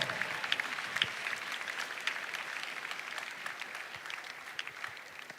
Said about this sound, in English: If you're clapping, you can do better.